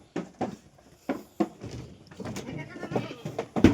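Goats for sale at a farm bleat in short bursts, several separate calls spread across the moment, fairly close and moderately loud, with some rustling and background movement between them.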